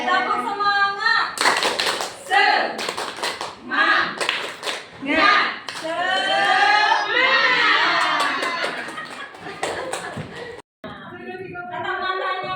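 A group performs a rhythmic 'tepuk semangat' clapping chant, with sharp claps under loud, shouting voices chanting together. A short pause comes near the end, then the voices resume.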